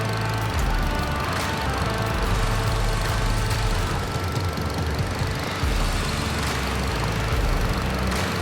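A tractor engine in Farming Simulator 22 runs steadily at a low, even idle with a rough, knocking mechanical hum throughout, no voices over it.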